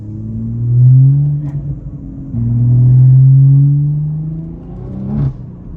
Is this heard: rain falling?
no